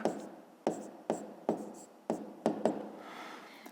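A pen writing out a math solution on paper, heard as a run of close, quiet scratching strokes with sharp onsets about every half second, each fading before the next.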